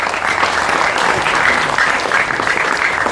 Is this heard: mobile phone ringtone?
no